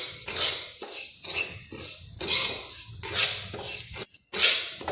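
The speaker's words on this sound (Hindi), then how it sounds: "कंटिन्यू इसे चलाते हुए भूनना है हल्का सा" Semolina stirred and lightly roasted in a pan for kakara pitha, an Odisha sweet: repeated scraping and clinking strokes of a utensil against the pan in an uneven rhythm, close and fairly clear, with no talking.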